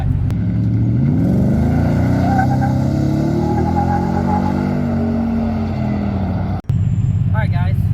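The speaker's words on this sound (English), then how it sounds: "do a wide open throttle pull on both trucks. The stock exhaust, I'll have it in Baja mode, so the valves are completely open." Ford Raptor R pickup with a supercharged 3.8-litre engine and stock exhaust, valves fully open in Baja mode, making a wide-open-throttle pull. The loud, rising roar builds for several seconds, cuts off abruptly, then settles into a rumbling idle.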